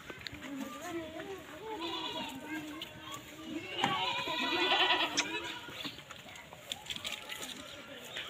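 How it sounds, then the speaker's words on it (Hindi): Goats bleat repeatedly in a rural village setting, several calls mixed with children's voices and other farm sounds, with people talking nearby throughout. "इनको भी पता नहीं कि मूवी बन रही है बकरों को"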